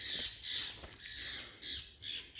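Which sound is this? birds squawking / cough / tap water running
birds squawking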